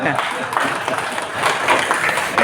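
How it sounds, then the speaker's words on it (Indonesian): Brief applause from a gathering at a regional legislative council hearing on fair wages, a dense burst of clapping that stays loud throughout, with voices mixed underneath. "Tepuk tangan."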